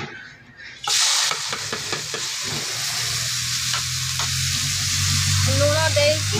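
Raw banana pieces sizzling and frying in hot oil in a home kitchen pan, a steady loud crackle that starts abruptly after a short quiet moment and continues with occasional stirring clatter.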